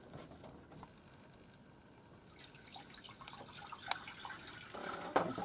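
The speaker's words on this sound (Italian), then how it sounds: "Adesso riempiamo con un po' d'acqua e procediamo a sistemare i nostri fiori." Water trickles and drips into a vase while flowers are being arranged for Easter decorations, a faint, quiet splashing that builds a little toward the end, with no talking.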